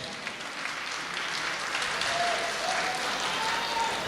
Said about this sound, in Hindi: तालियां आपकी कमजोर हैं,